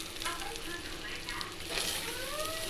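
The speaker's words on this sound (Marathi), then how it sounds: "याला आपण मस्त छानपैकी तेल सुटेपर्यंत याला परतून घेऊ" Spices and chicken masala sauté in oil with a steady, moderate sizzle and faint stirring scrapes, while a voice speaks quietly over it.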